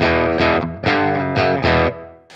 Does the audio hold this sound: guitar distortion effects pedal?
yes